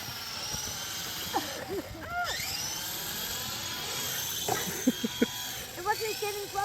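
A toy remote-control helicopter's rotor whirs steadily as a constant high buzz throughout, with several people talking over it.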